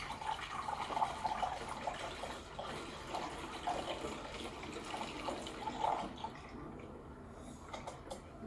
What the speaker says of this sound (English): the easier way is to fill it from the front